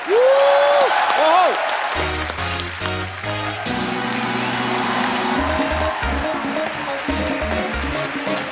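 A studio audience on a televised Hindi comedy talk show claps loudly and steadily, with music and a host's voice over it.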